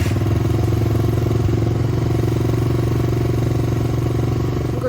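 A pit bike engine, just kick-started, runs at a steady, loud idle, its buzzing drone constant with no talking.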